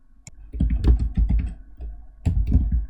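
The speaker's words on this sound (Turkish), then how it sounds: "Buraya t-shirt printer yazıyorum." Quick, close clicks of a computer keyboard as a short phrase is typed, keys tapping in two brisk bursts with a small pause between them.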